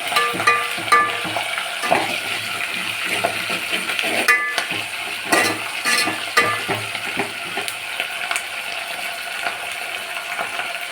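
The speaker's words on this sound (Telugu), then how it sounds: "కరివేపాకు వేసేటప్పుడు మాత్రం వీటిని కూడా మంచిగా ఆయిల్లో ఫ్రై అవ్వాలి" Curry leaves fry in hot oil in a pan, giving a loud, steady sizzle with scattered crackles and the clink of stirring throughout.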